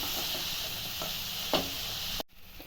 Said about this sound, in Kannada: ಈರುಳ್ಳಿ ಒಂದು ಎರಡು ನಿಮಿಷ ಚೆನ್ನಾಗಿ ಫ್ರೈ ಮಾಡ್ತೀವಿ